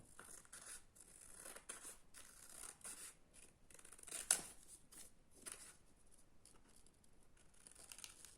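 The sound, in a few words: scissors cutting out a paper shape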